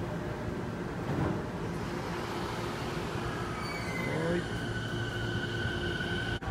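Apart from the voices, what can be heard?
train at station platform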